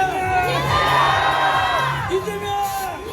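A large crowd at an outdoor campaign rally for candidate Lee Jae-myung at Dongmun Market cheers and shouts in a sustained roar, with whoops and yells rising above the dense, continuous noise.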